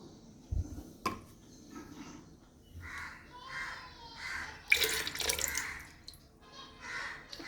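Cleaning liquid is poured into a bucket of water, heard as intermittent splashing and trickling pours in several short bursts, fairly close and moderately loud, with faint background noise between them.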